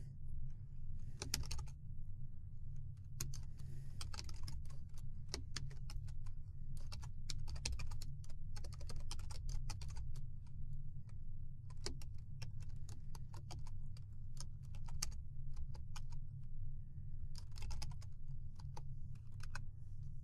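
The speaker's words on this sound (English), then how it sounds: "but first I'm going to type it all out" Someone typing code on a computer keyboard, bursts of quick close key clicks separated by short pauses over a steady low hum, with no one talking.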